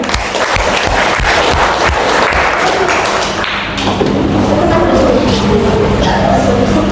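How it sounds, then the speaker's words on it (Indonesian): A school class applauds a presenting group during a mathematics lesson, with dense, loud clapping filling most of the stretch, then a brief dip before the applause resumes with some voices under it. "Tepuk tangan untuk kelompok 3."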